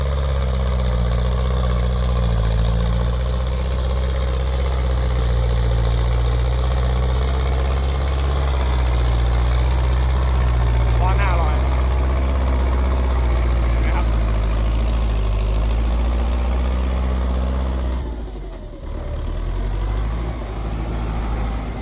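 A TR 55 tractor engine running under heavy load while pushing soil, a loud, steady low rumble throughout with a brief dip near the end and faint voices underneath.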